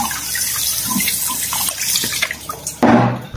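Water runs from a kitchen tap while milkfish is washed in the sink for daing na bangus, a loud, steady splashing stream close by that swells into a heavier gush near the end.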